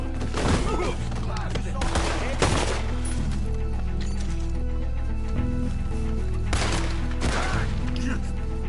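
Rapid bursts of video-game gunfire crackle loudly over a dense, continuous battle mix, with horse sounds in the background and music or voices layered underneath.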